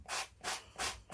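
Light hand sanding takes black paint off a mixed media background, three soft rhythmic scratchy rubbing strokes, close and quiet.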